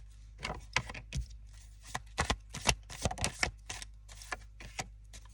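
Tarot cards are shuffled and pulled from the deck in a close, crisp run of riffling flutters and soft slaps, bursts of quick snaps with short pauses between them and no talking.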